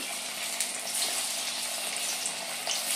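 Shevandi balls dropped into hot oil fry with a steady, dense sizzle and bubbling that runs throughout, close and fairly loud, with no talking.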